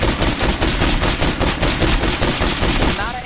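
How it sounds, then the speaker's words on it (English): An AA-12 fully automatic shotgun fires in a continuous loud burst of rapid blasts in the zombie game State of Decay 2, dense and close for about three seconds. "It's a fully auto, just ridiculous shotgun."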